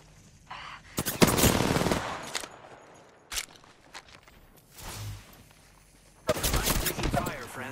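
Gunfire in the Apex Legends video game during a ranked Diamond match: loud bursts of rapid shots, one long volley followed by shorter cracks and a second sustained burst near the end, with quieter movement between.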